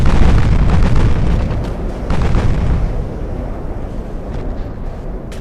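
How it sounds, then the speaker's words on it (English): A torpedo explosion in a naval warship video game featuring German cruisers, a heavy rumbling blast that rolls on for several seconds, loud and close, slowly fading with scattered crackles and no talking. "Oh, there we go, there's the torpedo."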